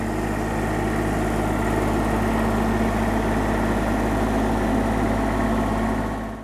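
Mobilift T-300 telescopic work platform driving on its tracks, a steady droning engine and hydraulic hum with constant tonal whine, loud and continuous without pauses.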